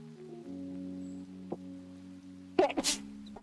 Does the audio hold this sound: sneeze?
yes